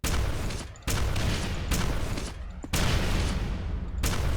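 Rockets fire in Quake 4, heard as a string of about four loud, close launches at an irregular pace, each a sharp burst that trails into a dense roar before the next one.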